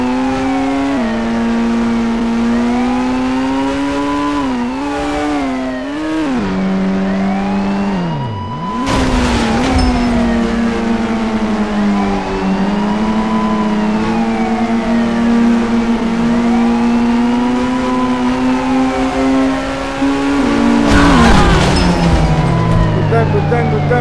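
Car engines in the mobile driving game Indian Bikes Driving 3D drone loudly and continuously, revving up and down in sweeping pitch bends, with a sharp dip and crash-like bursts partway through.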